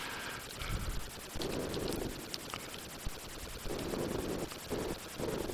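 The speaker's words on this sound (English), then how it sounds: "it's a nice helicopter sound. Some sort of muffled explosions" Helicopter sound effect with muffled explosions in the C64 game Hellfire, a rapid rhythmic chopping drone with recurring dull bursts, steady and synthetic, no talk.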